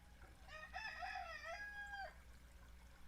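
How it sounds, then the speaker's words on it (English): A rooster crows once in a long, clear cock-a-doodle-doo lasting about a second and a half, fairly close and alone over a low steady hum, at an animal sanctuary housing rescued animals and wolf hybrids. "Also, Rooster."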